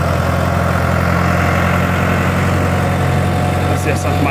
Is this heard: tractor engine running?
yes